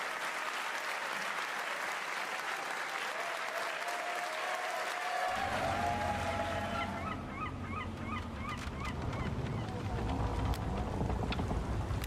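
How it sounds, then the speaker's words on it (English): Applause from a crowd at a RedBull Wololo Age of Empires playoff event in London, broad steady clapping throughout, with a honking goose-like game effect and low rumble joining midway. "a big round of applause and congratulations for our champion today"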